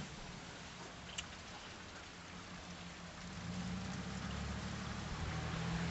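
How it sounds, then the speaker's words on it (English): Steady rain falls in a soft, even hiss, with a low rumble swelling underneath partway through. "So look at this rainy day."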